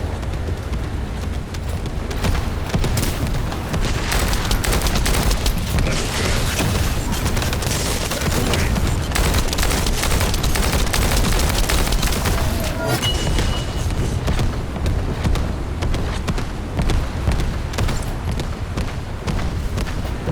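Bomb explosions in the video game The First Descendant, a dense barrage of heavy booms and blasts rolling continuously, loud and close, with faint voices underneath.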